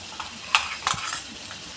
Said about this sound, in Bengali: এবার আস্তে করে লাল করে ভাজ।